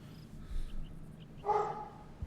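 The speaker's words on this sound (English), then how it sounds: "My dog is barking here." A dog barks indoors during a livestreamed cast of a Melee grand final: a few brief, moderately loud barks stand out against low background noise, with no one talking over them.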